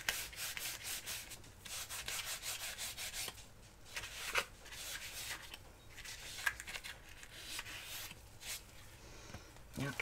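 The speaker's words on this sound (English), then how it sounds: "We'll rub the back to make sure we have contact." A hand rubs the back of a canvas in rapid, repeated close strokes, a soft brushing friction sound that rises and falls for several seconds in a quiet room.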